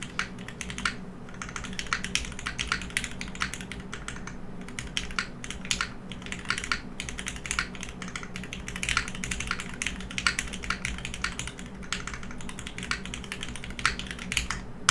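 Fast, steady typing on a custom mechanical keyboard, with dense clacky keystrokes and a deep, full thock over a low background hum, close and continuous without any talk.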